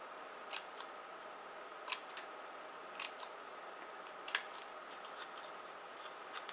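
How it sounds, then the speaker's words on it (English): Scissors snip through paper squares for a perfume-bottle-shaped box, with several short crisp cuts spaced about a second apart against a quiet room and no talking. "So we're going to cut up these squares and notch them in."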